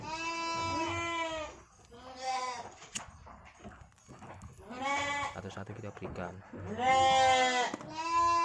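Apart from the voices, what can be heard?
goats bleating while being fed dry feed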